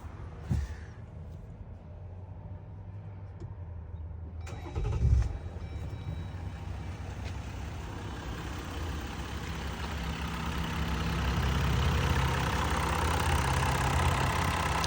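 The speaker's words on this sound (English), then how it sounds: "I read that they exhaust leak, and this one is a little loud." A steady, low rumbling 3.0 EcoDiesel engine in a Jeep Gladiator idles on its own, with an exhaust leak, growing slightly louder and rougher partway through, with a brief bump of noise early on.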